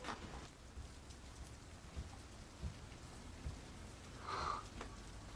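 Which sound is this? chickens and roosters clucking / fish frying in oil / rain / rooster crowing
rain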